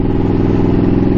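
A motorcycle engine with a tuned, straight-through exhaust roars loud and close in a short, steady burst with no talking.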